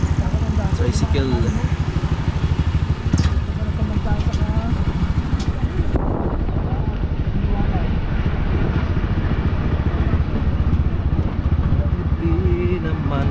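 A motorized tricycle's engine runs steadily throughout the ride, a loud continuous rumble and rattle with wind noise, while people talk over it.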